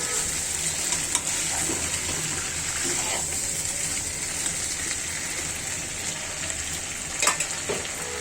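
Chicken frying in a little oil, a steady close sizzle holding evenly throughout, with a couple of faint knocks near the end.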